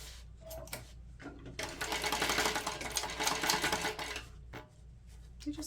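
A sewing machine basting two fabric layers together for a messenger bag, running in a steady rapid stitching burst for a few seconds at close range, with quieter pauses before and after.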